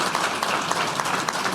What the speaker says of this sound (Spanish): Aprovecho que le demos un aplauso y que le llegue al cielo al presidente Piñera.